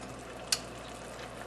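A hot chili sauce with ginger, herbs, cilantro and shallot simmers in a pan for Singapore lobster or crab, giving a faint, steady bubbling sizzle with a couple of small sharp ticks.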